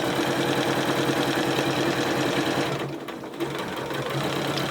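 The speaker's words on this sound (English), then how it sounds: "we're going to put the needle down and we're going to back tack at the front to secure the stitch" Sewing machine stitching a 1 cm fabric seam on a drawstring gift bag, with a back tack at the start; a steady, close, loud mechanical whir runs throughout, briefly easing near the middle before resuming.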